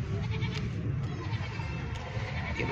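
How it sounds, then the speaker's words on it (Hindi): A goat bleats at a livestock market amid a constant noisy crowd murmur, with a few brief bleats rising over the din. "और अब आपको ये दिखाते हैं ये बकरी, और कमाल की बकरी है ये भी"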